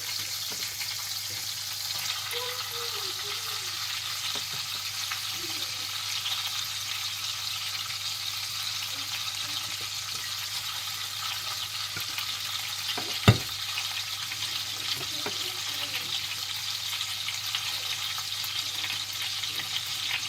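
Chicken pieces for a creamy chicken dish sizzle steadily in a pan, a continuous bright hiss with soft scraping stirs and one sharp clack of a utensil midway, no voices.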